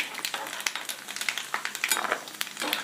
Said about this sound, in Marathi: खोबऱ्याचे काप हलका सोनेरी रंग येईपर्यंत तळायचे आहेत